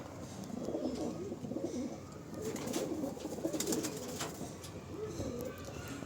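Young pigeons coo in a loft where the birds are moulting and get little sunlight, soft repeated coos and low murmurs continuing steadily throughout, close by.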